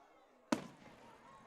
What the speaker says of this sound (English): they're letting off some late fireworks here, Dave.